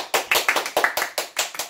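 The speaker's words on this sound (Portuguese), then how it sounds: "Aplausos, por favor." Steady, evenly paced clapping with about ten sharp claps at a brisk regular beat, close and fairly loud, with no voices over it, during a lively Portuguese-language talk on Brazil's independence history.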